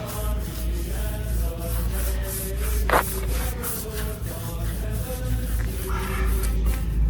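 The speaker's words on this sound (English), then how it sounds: "Come back with the brush. Scrub it down." A brush scrubs a cleaning product into a boat surface, making a steady close rubbing swish over a constant background hum, with one sharp louder scrape partway through.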